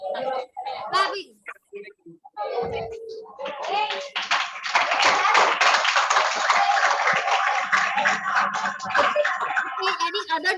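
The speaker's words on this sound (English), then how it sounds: "Clapping." A classroom of ninth-grade students claps for a school team after points are announced, a sustained patter of many hands following brief talk and a teacher's voice.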